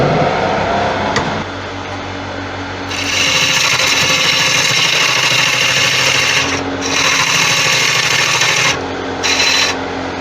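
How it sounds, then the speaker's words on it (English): A wood-turning gouge cutting an end-grain Tigerwood bowl on a lathe, a loud continuous scraping hiss that starts after a brief lull and breaks off twice near the end, over the steady hum of the machine. "I can actually feel those hard bits hitting the gouge"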